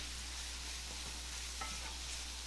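Celery cooking in a pan with onion for beans: a steady, dense sizzle with faint stirring scrapes, no voices.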